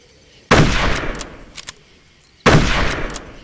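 Two loud rifle shots ring out in the video game Darkest of Days, set at the 1876 Little Bighorn battle, each a sharp blast with a lingering rumbling tail about two seconds apart and faint clicks between; no voices.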